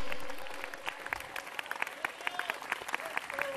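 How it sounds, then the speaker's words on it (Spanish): Church congregation clapping during a sermon, starting as a brief swell and settling into scattered, uneven claps, moderately close, with a voice briefly audible in the room. "No hay aplauso para Cristo, pero déselo, hermano"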